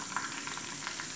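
Chana dal, urad dal and a dried red chili fry in hot oil, making a soft, continuous sizzle with faint crackles over a short stretch, with no voices.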